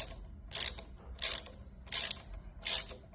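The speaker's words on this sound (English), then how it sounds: "Then I'm gonna use the torque wrench, because that's what these screws require" Torque wrench tightening the screws of a Klock Werks phone mount, giving four evenly spaced, crisp ratcheting clicks about two-thirds of a second apart, close and clear over quiet background hum.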